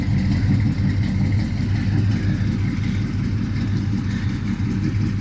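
An old Chevy truck, either a 1975 or 1979 C10, idles with a steady, low, rumbling engine note that stays even and close throughout, with no talk over it.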